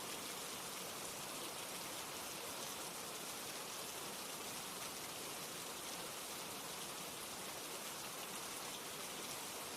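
Steady, dense rain falls without a break, a continuous even hiss that fills the scene and stays at the same level throughout with no voices.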